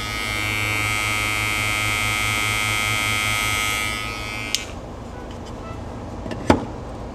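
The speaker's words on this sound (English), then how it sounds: "It's not a loud clipper, it's very quiet." A Babyliss Pro Lo-Profx compact hair clipper runs close to the microphone with a steady, fairly quiet electric buzz for about four seconds, then switches off, followed by a couple of sharp clicks.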